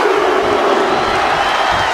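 Arena crowd roar in the WWE 2K25 wrestling video game, a loud, continuous wash of cheering and shouting voices with no pauses as a wrestler rallies the audience.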